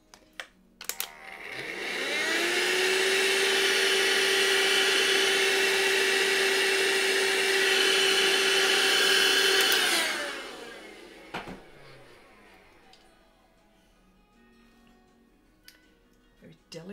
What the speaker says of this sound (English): Hang on, I've got to vacuum this